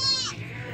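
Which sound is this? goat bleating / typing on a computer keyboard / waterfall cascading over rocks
goat bleating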